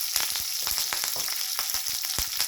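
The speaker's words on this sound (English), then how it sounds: "Let it splutter a little" Curry leaves and garlic spluttering in hot oil as a tempering for Andhra gongura (roselle leaf) pickle, a steady close sizzle broken by sharp crackling pops, no voices.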